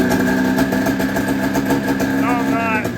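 Off-road go kart powered by a snowmobile engine idling while warming up, a steady close engine drone with a faint rising whine near the end, with a person talking over it.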